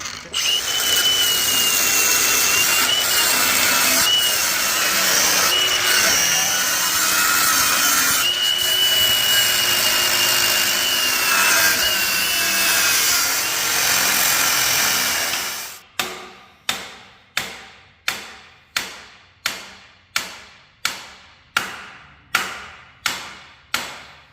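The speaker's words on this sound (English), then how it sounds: "got my grinder here with my cutoff wheel, and we are ready to cut our spring perches off" An angle grinder with a cutoff wheel cuts the spring perches off a Sterling 10.5 one-ton axle, a loud sustained high-pitched whine for about fifteen seconds, followed by a dozen evenly spaced sharp knocks.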